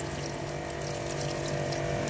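Dirty engine oil drains from the unscrewed drain nut of a motorbike, a steady trickling, splashing flow close up that runs evenly throughout with a faint mechanical hum beneath.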